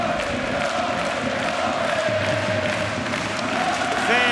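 Ice hockey fans cheering in an arena during a Slovakia versus Germany world championship game, a dense steady crowd roar filling the space, with a commentator's voice faintly underneath.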